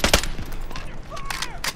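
Bursts of video game gunfire crack out in quick volleys, sharp and close, during an online shooter match, with faint tones and effects between the shots.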